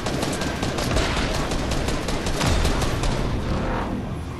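Rapid, dense bursts of video game gunfire, near and loud, with overlapping shots and booms continuing without pause, no talk over them.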